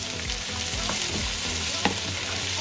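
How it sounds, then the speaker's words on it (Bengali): Green banana peel frying in a pan makes a continuous close sizzle with soft bubbling and a sharp scrape of stirring near the end, with no talking. "কলার খোসাটা দিয়ে একটু আবার ভেজে নিব।"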